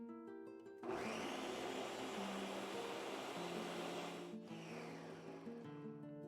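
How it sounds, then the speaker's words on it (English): Countertop blender whirring through tomato sauce with serrano peppers, starting abruptly and running as a loud, steady high-pitched motor whine for several seconds, dipping briefly once near the end under faint background music. "Now I'm gonna blend it."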